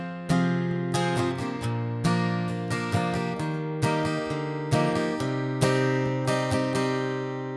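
Acoustic guitar playing a four-bar chord progression: rhythmic strummed chords with bright attacks in a bouncy, repeating pattern, close and clear, with no talking.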